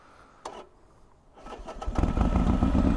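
A Harley-Davidson XR motorcycle engine starts close by: a brief starter click, a short pause, then the engine cranks and catches into a low, rising rumble that settles into a steady, throaty idle.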